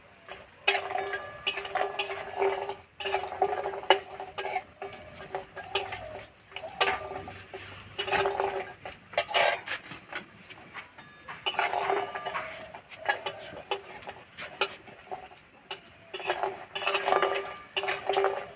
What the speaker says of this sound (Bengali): বড়িগুলো ভাজা হয়ে গেছে এই যে কালার চেঞ্জ হয়ে গেছে এবার আমি তুলে নেবো